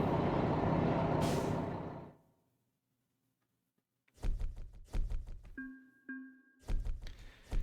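Air brakes set on a heavy truck in American Truck Simulator: a loud broadband hiss that cuts off, then a quiet idle before a series of sharp clunks and knocks with a short tonal beep.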